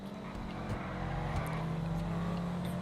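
A Schwarzer V12 race car in a Grand Theft Auto Online race, its engine a sustained steady drone at moderate distance with a slight rise in pitch, alongside other cars and faint tire noise.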